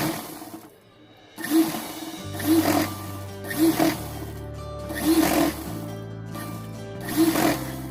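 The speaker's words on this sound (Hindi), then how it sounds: "यहाँ पे भी किनारे की सिलाई लगाते हुए लैस लगा लूँगी" A sewing machine sews lace onto the edge of an Afghani-style salwar in repeated short bursts of whirring stitches, each separated by brief pauses, close and moderately loud.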